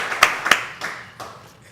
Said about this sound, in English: Big round of applause for Dead Coffee.